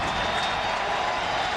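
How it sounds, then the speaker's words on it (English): Football stadium crowd roaring for the defense during a 2003 Tennessee vs Vanderbilt college game, a steady dense wash of cheering and noise from thousands of fans, loud and continuous throughout with no break. "the crowd roaring for some defense here"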